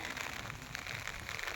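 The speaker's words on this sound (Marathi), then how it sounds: "पाऊस चालू आहे, काय करावं." Rain falls on a sugarcane farm field, a steady, soft hiss of drops pattering on leaves and ground, faint and continuous with no voices.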